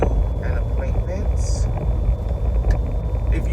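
Steady low road rumble inside a moving car on the way to an appointment, continuous and fairly loud beneath the cabin, with no talking in this stretch.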